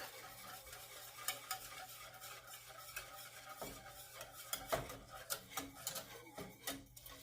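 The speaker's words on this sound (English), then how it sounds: "And we're going to whisk." Egg-free chocolate or vanilla pudding mixture whisked in a pot over the heat, quiet rapid clicking and scraping strokes of the whisk against the metal in uneven bursts.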